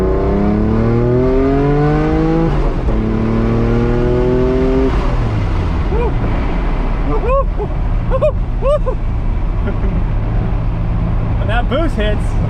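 A 500 hp Mitsubishi 3000GT VR4 engine pulls hard under turbo boost, its rising drone climbing through the revs inside the car before a shift, loud and continuous, with someone talking over it.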